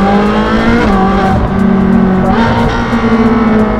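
A Ferrari-type sports car engine, compared against a 296 GTB, revs loud and close in a steady, sustained drone with rising and falling pitch throughout.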